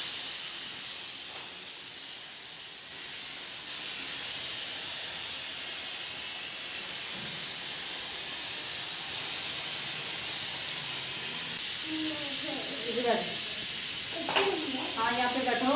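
A constant loud hiss of steam escaping under pressure from a pressure cooker of beef fills the scene, with voices speaking faintly toward the end.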